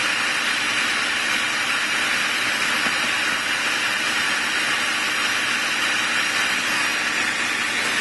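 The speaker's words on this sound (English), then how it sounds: "Now that all of our ingredients are in our food processor, we want to blend them." A food processor blends oats, tofu, onion, scallion, mushrooms and seasonings with a steady, loud, broadband whirring roar that holds unbroken for the whole stretch, with no voices.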